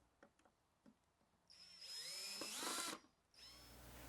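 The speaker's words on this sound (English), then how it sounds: "screw it onto the box component using at least 2 screws" A power drill drives screws into a pallet-wood trug, with a few light knocks and then a long whirring, rising screw run followed by a short second burst, close and fairly quiet.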